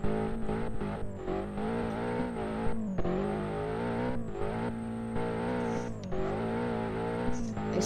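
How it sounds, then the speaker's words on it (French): A video game car in Classifia V2 drifts around a roundabout, its engine droning and revving steadily with shifting pitch and brief tire squeals, while someone talks over it. "On va se faire un tour de rond-point là, en drift."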